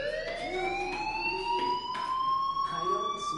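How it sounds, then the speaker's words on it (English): A fire alarm rings in the video game Life is Strange: a loud, steady electronic tone that holds continuously, with bright overtones and faint bursts of other game sound beneath it. "do you hear that fire alarm? That means you should be outside."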